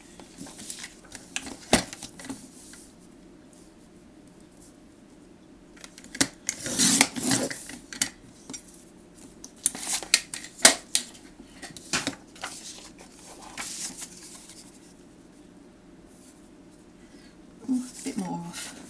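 Paper being trimmed for a scrapbook page, with a series of short crisp cutting and rustling sounds in bursts, mostly around the middle and end, over a quiet background.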